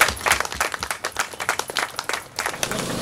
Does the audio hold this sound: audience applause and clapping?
yes